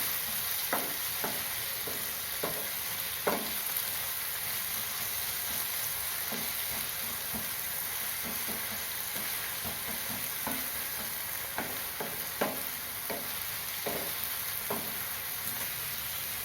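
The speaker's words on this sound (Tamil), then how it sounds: "பெரிய தக்காளி ரெண்டு பொடியாக அரிஞ்சு வச்சது அதையும் சேர்த்துக்கலாம் தக்காளியும் நல்லா மேஷ் ஆகிற மாதிரி வதங்கணும்" Two finely chopped large tomatoes being sautéed and stirred in a pan for egg keema masala, a steady low sizzle broken by scattered spoon scrapes and clicks against the pan.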